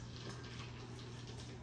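A Starbucks iced pumpkin chai drink is poured, giving a soft, steady rush of liquid that runs unbroken and fairly quiet for under two seconds, with no talking.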